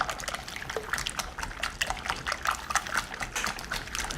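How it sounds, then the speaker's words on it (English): Whisk beating a sauce with extra fluid in a kitchen pan, producing a fast, wet, sloshing and clicking rhythm of liquid strokes, close and continuous with regular bursts. "We're going to want to whisk some of that fluid out."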